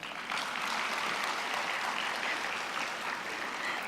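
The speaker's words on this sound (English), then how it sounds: "You all deserve a round of applause for yourself." Sustained, steady audience applause fills a large hall at a closing ceremony, a dense wash of many hands clapping at even loudness with no talk over it.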